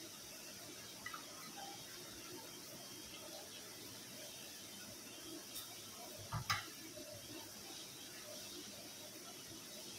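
Jowar flour sev frying in hot oil gives a faint, steady sizzling hiss, with a brief clatter of utensils a little past the midpoint.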